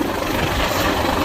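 Coast Guard aircraft flying low overhead at night above a seaside pier gives a loud, close, steady rotor-like roar with a heavy, pulsing low rumble.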